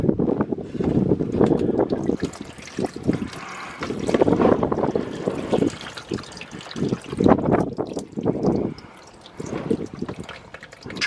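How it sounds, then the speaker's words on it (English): Transfer case fluid drains from the open drain plug of a 2018 Ram 2500 Cummins pickup onto a driveway, a steady trickling and splashing stream that swells and fades, with gusty wind blowing outdoors. "We'll wait for that to drain completely, and then we'll go ahead and put the drain plug"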